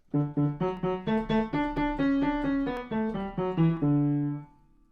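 A lively melody from Bach's Brandenburg Concerto No. 5 in quick, distinct notes played on a bright keyboard-like synthetic tone, ending on a held note that fades.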